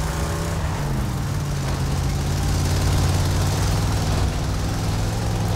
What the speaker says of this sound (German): Der Motor ist aber echt ganz schön laut.